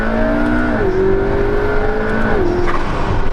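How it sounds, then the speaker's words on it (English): A twin-turbo V8 car engine drones loudly and steadily with rising and falling revs, the turbo spooling up with a fluttering whoosh near the end, close and without talk. "you can hear the turbo spooling up and fluttering"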